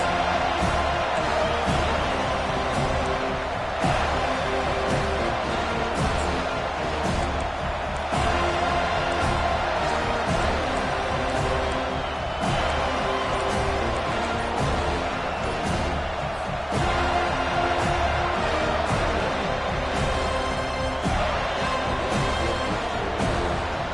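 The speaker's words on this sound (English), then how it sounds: "This crowd bringing an ear-splitting welcome to their visitors" A college football stadium crowd at Clemson versus FSU keeps up a sustained, dense roar throughout, swelling and easing in waves, with a commentator's voice faintly over it.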